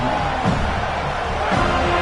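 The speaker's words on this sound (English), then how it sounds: "This crowd trying to make life miserable for this offense." Stadium crowd at an American football game, a dense continuous roar of many voices filling the space, steady and loud throughout with a slight swell near the end.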